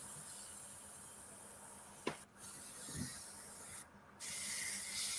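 Airbrush spraying dye at about 30 PSI onto a skeleton figure, a steady close hiss that runs almost unbroken, with two short gaps where the spray stops before resuming.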